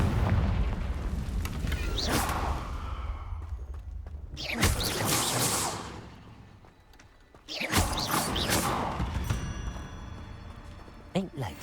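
Confringo blasting spell explosion in the Hogwarts Legacy video game, booming in several loud bursts spread across the clip with game sounds between them and a voice speaking partway through.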